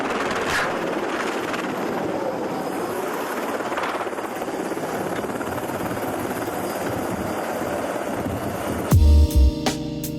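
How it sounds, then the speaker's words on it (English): Helicopter rotor thumping and whining as it tries and fails to take off, loud and steady, ending in a few heavy low bangs near the close. "This helicopter tried to take off but failed."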